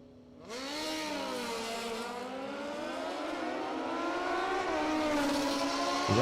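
Drag racing motorcycles launching and running side by side down the strip at the ManCup World Finals, with loud, rising engine howls that climb and shift pitch across the run and stay strong throughout.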